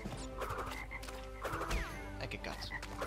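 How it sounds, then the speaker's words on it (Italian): Frogs croak in the Crash Bandicoot N. Sane Trilogy video game, a dense chorus of rough, repeated calls layered over busy game ambience for a few seconds. "Ci sono già delle rane, il che non mi piace."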